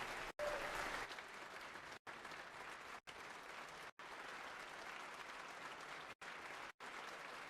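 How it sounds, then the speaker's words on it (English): Applause fills the Georgia House chamber for Gerald and his team on opening day: broad, steady clapping from many hands in a large room, running continuously for several seconds. "Let's give Gerald and the team one more round of applause"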